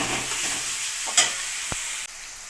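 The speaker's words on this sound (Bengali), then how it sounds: "কেটে রাখা টমেটোগুলো দিয়ে দেবো। এক মিনিট একটু নাড়াচাড়া করে নেব আমি।" Chopped tomatoes are stirred into fried chicken in a pan, giving a close sizzle with a spoon scraping and clinking against the pan. The frying hiss drops abruptly near the end, and no one talks.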